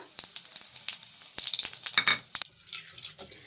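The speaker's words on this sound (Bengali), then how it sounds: "ভাজার তেলে কিছু ফোড়ন দিয়ে নেবো।" Bay leaves and cumin seeds hit hot oil left from frying fish, setting off sharp crackling spits that build into a quick burst of sizzling and then settle to a softer hiss.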